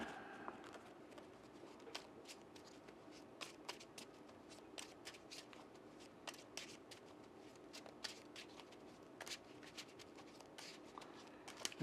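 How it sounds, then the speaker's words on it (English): Playing cards being shuffled during a Marvel Champions card game, a faint, continuous riffle of soft flicks and taps with quiet crisp clicks scattered throughout, close but low in level. "We shuffle all this back in."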